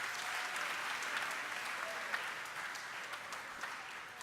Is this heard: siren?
no